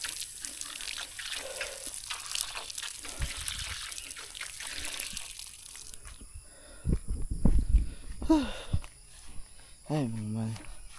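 Hands being washed under cold running water, a steady trickle and splash mixed with nearby talking voices and a few handling clatters.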